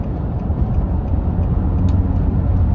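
Nissan Pathfinder engine revving hard near its redline around 6,300 rpm with traction control off, a loud, steady low drone that holds at a constant pitch throughout while driving.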